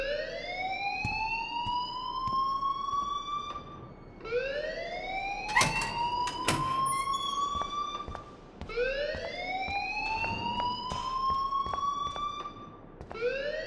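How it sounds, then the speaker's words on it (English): An alarm blares inside a school in the game Life is Strange: a wailing siren that sweeps upward in pitch, repeating in three long cycles, with sharp clanks scattered in between. "please turn off that alarm since that's your job"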